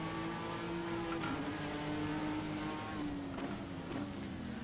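Ford GT GTE race car engine in a racing video game holds a steady, loud drone with a shifting pitch, easing up around one second and again near three seconds as the car passes another racer.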